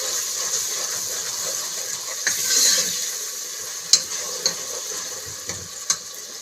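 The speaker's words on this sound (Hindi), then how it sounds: "लहसुन अदरक और सब्ज़ मिर्चों का पेस्ट। और इसको 1 से 2 मिनट के लिए अच्छे से भून लेंगे" Garlic, ginger and green chili paste sputters in a pan for chicken degi korma, a dense, steady sizzle with a few sharp spatters and stirring knocks toward the end.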